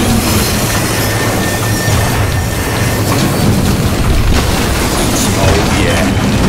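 A train rolling in the video game Crysis 3, a loud continuous rumble of heavy rail cars with clattering wheels and metallic rattles, steady and close throughout.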